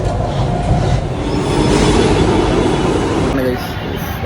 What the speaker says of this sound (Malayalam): മെട്രോന്റെ ഉള്ളിലാണ്.